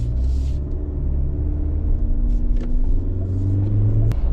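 A SsangYong All New Rexton pulls away smoothly after auto hold is released, its engine giving a steady low rumble heard from inside the cabin that builds gently under continuous road and cabin noise.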